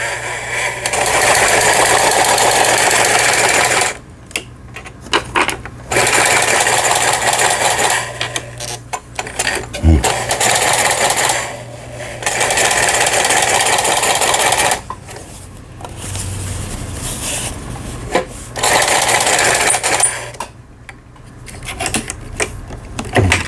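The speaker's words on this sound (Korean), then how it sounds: "페달을 밟아서 박음질을 해보도록 하겠습니다" A Lion HD1000 sewing machine with a newly replaced motor stitches in loud, fast bursts of rapid mechanical whirring and clatter, stopping and restarting between runs, with no talk.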